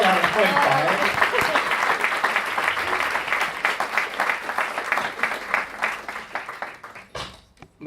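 A crowd at a museum talk applauds steadily for several seconds. The clapping is full at first, then thins into separate claps and fades.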